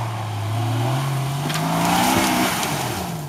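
A Nissan Patrol 3.3 TD diesel engine revs off-road in a forest, close and loud, its pitch climbing steadily as it pulls under load, with a brief squeal near the end.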